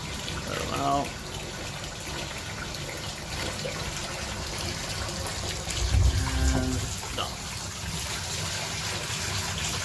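Water runs and gushes over brass cartridge cases being rinsed after wet tumbling, a steady tap-like flow with a louder splashing surge partway through, while a person talks over it.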